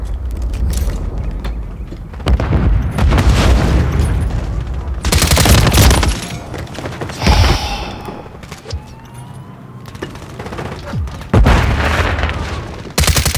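Call of Duty Modern Warfare 3 multiplayer combat fills the scene with loud bursts of automatic gunfire, heavy booms and thuds from explosions, and mechanical clatter, coming in repeated intense waves.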